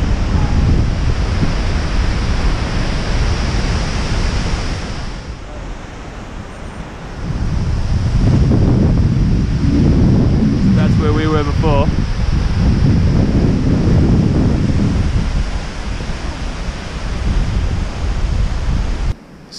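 Wind and rushing water behind the Skógafoss waterfall in Iceland, a steady loud roar of spray and wind buffeting the microphone, dipping briefly midway, with voices faintly audible.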